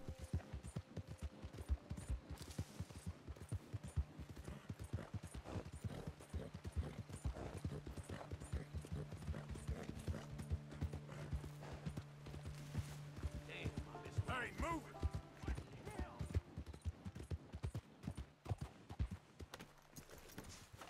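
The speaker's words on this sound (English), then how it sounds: "Go faster, horsey." Hooves of a galloping horse in Red Dead Redemption 2 thud in a fast, continuous rhythm, mixed with game sounds and music.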